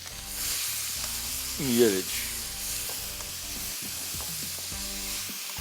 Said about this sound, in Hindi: प्याज को थोड़ा सा फ्राई करते हैं।